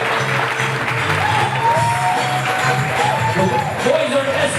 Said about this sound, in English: a nice round of applause for Vanessa